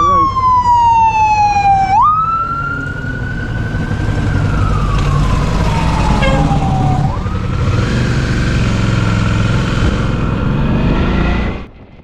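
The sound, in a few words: fire truck siren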